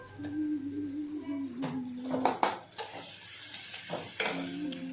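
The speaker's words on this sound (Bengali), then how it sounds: "তো দেখো, ভালো করে শুটকি মাছটাকে কষিয়ে নিচ্ছি" Dried fish (shutki) is stir-fried in a pan: a hissing sizzle runs throughout, punctuated by repeated scraping and clanking of the utensil against the pan, with a voice talking over it.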